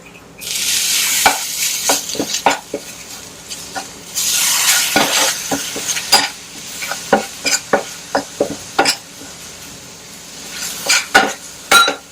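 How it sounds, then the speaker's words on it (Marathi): Pink natural-colour mixture being stirred in a pan with a spoon, giving a steady sizzle and a rush of scraping, then a run of sharp, rhythmic clinks and knocks against the pan, close and loud with no speech. "छान प्रकारे सगळं मिक्स करून घेऊया"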